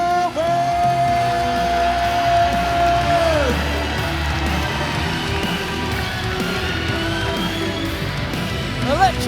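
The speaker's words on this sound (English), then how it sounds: "Electric crowd for an electric event." Large arena crowd at a Japan-versus-Thailand fight event roaring, whooping and yelling continuously, loud and sustained with whistles and shouts rising above the dense cheering, an announcer's voice briefly over it.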